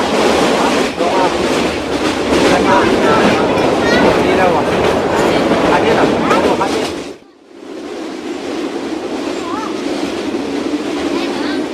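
A train rolls along the rails in Vietnam on a long trip toward Hanoi, a loud steady rumble with clickety-clack that drops away briefly, then returns at a softer, more even level.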